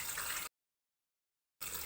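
Hot water runs from a tap into a sink as a steady, hissing stream, heard in two brief bursts with a cut to silence between them.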